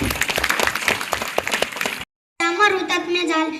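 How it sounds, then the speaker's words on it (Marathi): A crowd at a school Republic Day event claps loudly in a dense burst for about two seconds, then after a brief gap a voice starts singing over a hum. "ती टाळ्या वाजवून एकदा अभिनंदन करूया"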